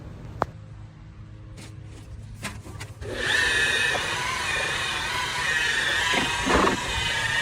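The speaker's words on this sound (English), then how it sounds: "take your time and work the buffer into that gel coat so you can burn it in" A power buffer with a wool pad polishes jet ski gelcoat. Quiet handling knocks come first, then a steady whirring drone starts up close, with a brief louder surge near the end.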